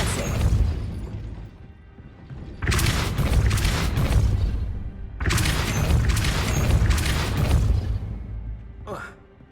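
A Depulso spell cast in the video game Hogwarts Legacy, heard as forceful booming bursts with crashing impact and debris, two loud surges separated by a brief lull, then a short sharp pop near the end, with game voices mixed in.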